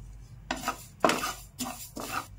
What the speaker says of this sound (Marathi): त्यानंतर मी 2 चमचे तीळ घेतलेले आहे, ती भाजून घेऊया आपण।